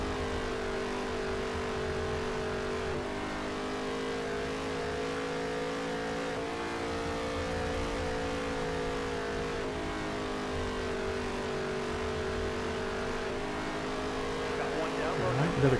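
Stock cars race on a dirt oval at Richmond in a NASCAR video game, engines droning steadily and loud throughout with shifting pitch as cars run close together, under occasional commentary.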